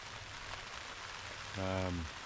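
Rain falling in the New Zealand bush makes a steady, even hiss throughout. A brief voiced sound rises over it near the end.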